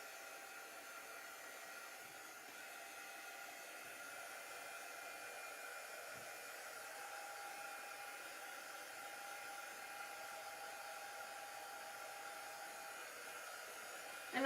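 A hair dryer runs steadily on green chalk paste spread over a stencil, a constant airy whoosh holding at one level from start to finish with no talk over it.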